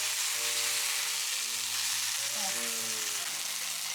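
Steady sizzling of thin maesaengi seaweed and whole wheat pancake batter frying in a hot pan, a constant hiss with faint tonal hums in the background, no talking.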